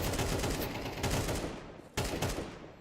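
Rapid gunfire in a Counter-Strike match, a loud dense burst of shots that fades, then a second sharp burst after a short gap.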